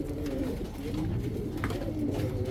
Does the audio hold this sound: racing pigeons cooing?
yes